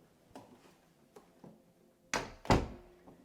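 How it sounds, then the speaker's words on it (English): A room door is handled, with a few soft clicks and knocks, then two loud, close thuds as it is pushed open. No one speaks. "So you open up the door here."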